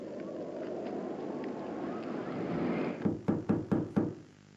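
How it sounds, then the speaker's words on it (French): Five sharp knocks on a door in the video game Poppy Playtime Chapter 3, in quick succession, loud and close, following a steady low ambient rumble; no voices. "Il y a quelqu'un qui frappe à la porte."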